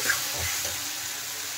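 Spice paste frying in oil in a pan for a Bengali fish curry with cauliflower and potatoes gives a brief, steady close sizzle, with a soft stir near the start.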